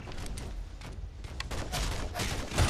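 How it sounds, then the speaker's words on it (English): Gunfire in the action video game Shadow Complex, a dense, continuous burst of shots and impacts running through the whole moment, loud and close, with no talk over it. "Who's shooting me?"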